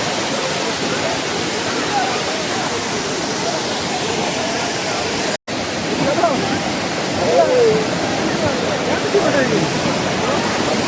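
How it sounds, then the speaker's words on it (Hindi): A mountain waterfall in the Hunza and Skardu region, with people bathing beneath it, makes a loud, steady, broadband roar of falling water throughout. The sound drops out for a moment near the middle. "मतलब बस पानी गिर रहा है ऊपर से और लोग बस नहा रहे हैं"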